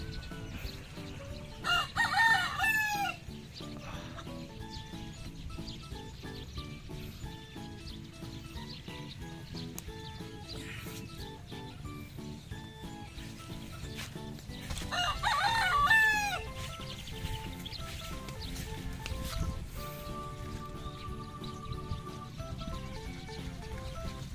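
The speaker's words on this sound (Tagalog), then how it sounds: "Tilaok na" Thompson White gamefowl roosters crow twice, loud and near, with a long drawn-out call each time over a low background hum and faint clucking.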